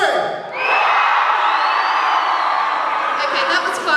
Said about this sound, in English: Let's give another great big cheer.